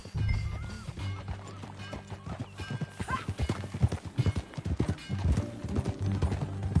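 Steady clip-clop of horse hooves at a brisk pace with a brief whinny, set against a low rumbling backdrop, in the video game Red Dead Redemption 2.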